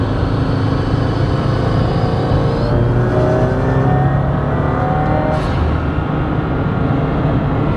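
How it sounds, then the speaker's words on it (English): A turbocharged 2015-or-later Subaru WRX with a GrimmSpeed turbo inlet roars steadily while accelerating, pitch climbing through gear shifts, with a rushing intake hiss layered over the low rumble. "It definitely amplifies the intake sound a little bit"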